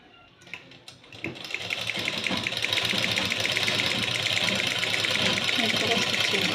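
A sewing machine stitches fabric at a basic tailoring class, starting up after a second and then running a fast, even mechanical patter that holds steady and fairly close.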